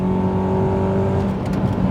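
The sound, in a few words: Honda Accord Euro 6-speed manual accelerating, VTEC engine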